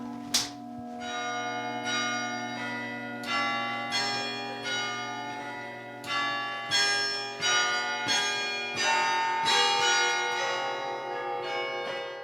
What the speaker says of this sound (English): Would you like to play the big bells so I can start?